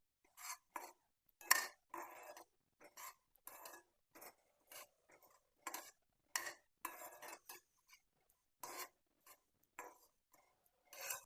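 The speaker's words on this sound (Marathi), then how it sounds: "मोहरी तडतडायला लागलेली आहे" Mustard seeds crackling in a hot pan over a low gas flame, a sparse series of sharp popping ticks at uneven intervals against near silence, close and fairly faint, no talking.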